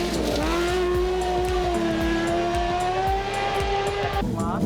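Rallycross car on a forest rallysprint stage at Ashley Forest, engine loud and close with rising and falling revs through repeated gear changes, tyres scrabbling, a faint voice briefly underneath.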